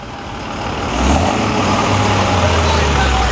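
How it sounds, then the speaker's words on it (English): A Cummins turbo diesel truck rumbles with a deep, heavy engine note at a Musclepalooza car show, swelling louder after a moment and then holding steady, with people talking over it. "Cummins turbo diesel."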